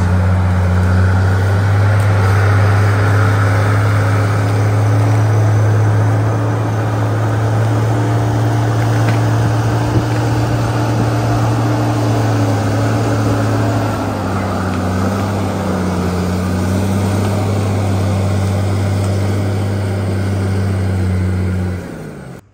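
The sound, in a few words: Murphy service truck driving away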